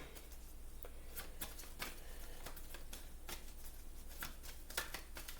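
Tarot cards are shuffled by hand in a quiet room, giving a run of soft riffling flutters and taps in irregular bursts over several seconds, close and faint, with no speech.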